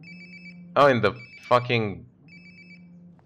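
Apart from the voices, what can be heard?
phone ringtone ringing in video game Life is Strange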